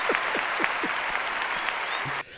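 Applause for the executive producers during a podcast episode: steady, dense clapping from a small group, fairly close and continuous, stopping abruptly near the end.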